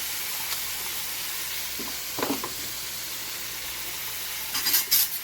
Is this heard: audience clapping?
no